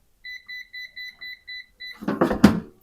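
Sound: electronic beeping from a smoker device

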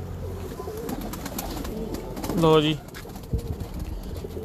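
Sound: pigeon cooing

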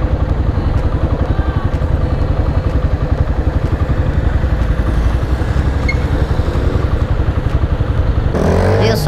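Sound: motorcycle riding through a traffic light

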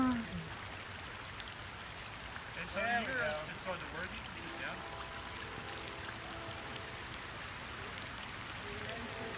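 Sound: rain picking up

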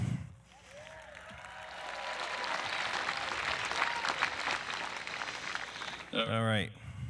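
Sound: audience applause at a graduation ceremony

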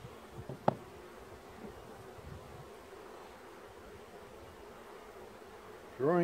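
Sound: honey bees buzzing during a hive inspection

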